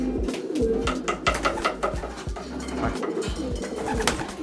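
Homing pigeons coo steadily just after returning home to their loft, with soft low repeated coos and occasional wing flutters and bird calls, close and continuous and with no talking.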